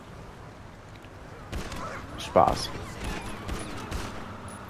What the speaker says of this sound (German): Und zum Abschluss zeige ich euch nochmal so eine schöne Explosion.